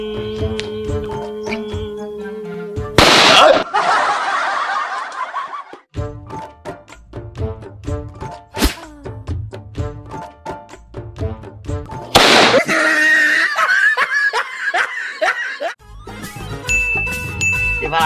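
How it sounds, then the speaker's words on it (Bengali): Firecrackers go off in two loud, sharp blasts with ringing decays, several seconds apart, over continuous music playing throughout. "এবার 28টা বোম একসাথে মারবো"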